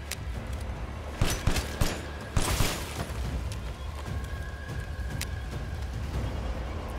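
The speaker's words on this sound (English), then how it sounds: "I'm missing all my shots right now." Gunfire in the video game Resident Evil Village, a few sharp shots and short bursts over a steady game soundscape, moderately loud, with no speech.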